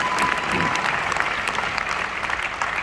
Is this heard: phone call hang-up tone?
no